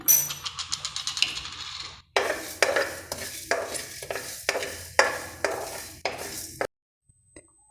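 Mustard seeds and spices, including black pepper, being dry-roasted and stirred in a pan for jackfruit pickle, with repeated scraping strokes and light crackling that come in bursts, then stop into near silence at the end.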